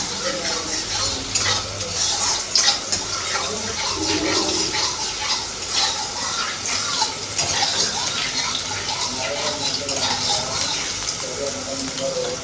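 Two green chilies and tomato fry in hot oil with a continuous close sizzle, stirred with repeated scraping and clinking of a utensil against the pan.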